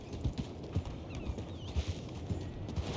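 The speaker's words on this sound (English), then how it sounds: "For some reason, I like this black and white horse." Hooves of a black and white horse clip-clop at a steady walking pace in Red Dead Redemption 2, close and distinct against a low town ambience.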